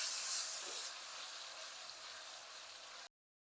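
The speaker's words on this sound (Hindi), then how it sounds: "लहसुन अदरक भी थोड़ा सा फ्राई करेंगे" Garlic-ginger paste sizzles in hot oil in a pan while a packet-mix chicken haleem is cooked, a loud steady hiss that is strongest at first, eases slightly, then cuts off abruptly.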